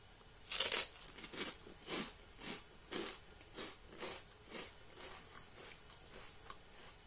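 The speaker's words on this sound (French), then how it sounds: "j'ai ma biscotte au beurre, je goûte" A buttered rusk (biscotte) is bitten and then chewed, starting with one loud crisp crunch followed by a steady rhythm of about ten dry crunching chews that gradually fade, close up and with no talking.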